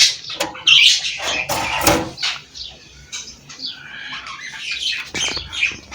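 Pet pigeons kept as a hobby flutter and call nearby, sharp wing flaps and brief squawky coos in irregular bursts, fairly close with quiet gaps between.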